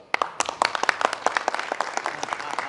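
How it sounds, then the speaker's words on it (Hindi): A short burst of lively applause from a group, many hands clapping quickly and unevenly, fairly close. "एक बार जोरदार ताली"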